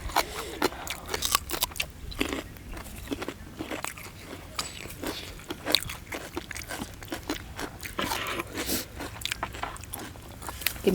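Crunchy food is bitten and chewed close to the microphone in a rapid run of sharp crunches, with a spicy chili bitten alongside a meal of papaya-style salad outdoors by a field.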